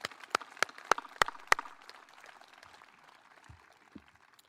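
An audience at a Grade 8 moving-up ceremony gives a short round of clapping, heard as a few sharp, fairly near claps that quickly thin out into scattered, fading applause.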